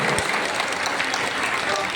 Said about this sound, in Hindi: जोरदार तालियां एक बार और बजाइएगा